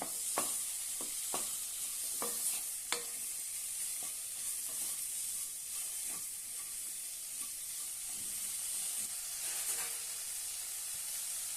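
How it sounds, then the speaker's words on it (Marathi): Sliced bitter gourd stir-fries in an oil-filled pan, a steady sizzling hiss broken by scattered clicks and taps of a spatula stirring, moderately quiet and with no voices. "आता यामध्ये कारले घालूया मस्त त्याची परतून घेऊया"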